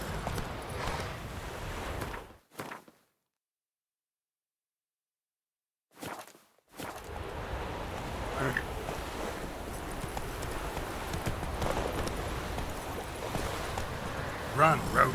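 The horse Roach galloping in The Witcher 3, hooves clip-clopping in a quick rhythm over whooshing ambience, cut by two short silent gaps before the galloping resumes.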